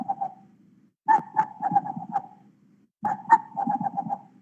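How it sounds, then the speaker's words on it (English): A scimitar babbler calls in the Goa ghats, a mellow hooting note followed by a quick rattle of answering notes, repeated twice in clear bursts with quiet gaps between. "on top we have got the scimitar babbler"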